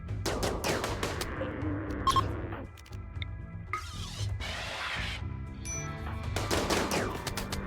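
Rapid gunfire in the video game Starjacks, bursts of quick shots broken by short pauses and electronic tones, loud and close.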